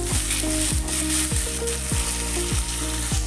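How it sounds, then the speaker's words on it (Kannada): Tomato pieces frying in hot oil for a Karnataka-style junka made with gram flour, giving a steady, close sizzle with regular scraping strokes of a spoon about every 0.6 seconds, with no one talking. "ಈಗ ಟೊಮೆಟೊ ಹಾಕ್ತೀನಿ ಎಣ್ಣೆ ಒಳಗೆಲ್ಲ ಫ್ರೈ ಆಗಬೇಕು"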